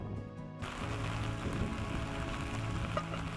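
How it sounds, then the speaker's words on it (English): A quick rain shower in Belize comes in abruptly after a quieter moment, becoming a dense, steady hiss with a low hum underneath, close and continuous, with no one talking. "Luckily, this time it was just a quick shower"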